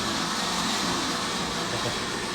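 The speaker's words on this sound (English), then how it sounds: "wife's using the blender." A household blender runs nearby with a constant, dense, hissing roar that never changes over its brief length. No one speaks over it.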